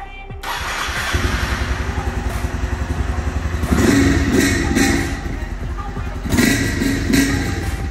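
A 2023 Honda Start 160 motorcycle fitted with a Torbal 2-in-1 exhaust idles with a steady pulsing thrum, then gets several sharp revs that rise and fall, loud and close.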